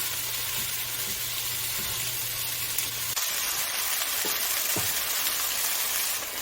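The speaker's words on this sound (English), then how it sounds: "Just to make sure the meat doesn't stew up, I'll spread it in the wok." Strips of beef frying and sizzling as they are spread across a hot wok for a spicy stir-fry, a steady broadband hiss with a few soft clinks of utensils, close and continuous.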